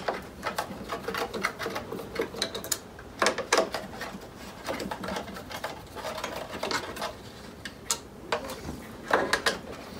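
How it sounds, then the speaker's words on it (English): Screws being removed from the back cover of a Robe 600 LED wash light, heard as light irregular clicks and ticks from a screwdriver with some scraping, close and fairly quiet. "there are six screws on the back of the unit. Just remove them, and this cover here will come off"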